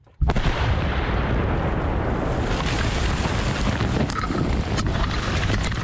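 Massive controlled detonation of more than 2,000 pieces of ordnance buried in a crater in woods in Ukraine, a sudden loud blast followed by a long, sustained roar and rumble with scattered cracks.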